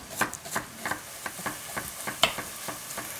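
Tulip bulbs being sliced on a board while onions fry in a pan in a wartime-style kitchen, with steady sizzling under irregular knife taps and stirring clatter.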